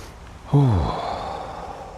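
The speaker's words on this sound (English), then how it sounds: "just take a deep breath" One deep breath, a sudden audible inhale that swells and then tapers into a long airy exhale, close and fairly loud, alone without talk.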